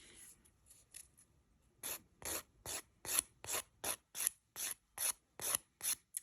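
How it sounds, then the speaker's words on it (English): A nail file rasps over builder gel on a fingernail in slow, regular back-and-forth strokes, about a dozen close scratchy passes that grow louder after a few soft ones. "you can see how far down you're filing off that builder gel"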